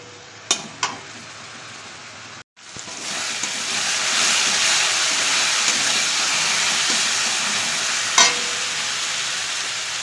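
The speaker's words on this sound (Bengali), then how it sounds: "এখন মশলাটা দিয়ে সুন্দর করে আমার কষাতে হবে যতক্ষণ না তেলটা ছাড়ছে মশলা।" Spice paste for egg curry fries in hot oil while being stirred, giving a steady, loud, close sizzle that swells after a brief pause, with a few sharp scrapes of the spoon against the pan.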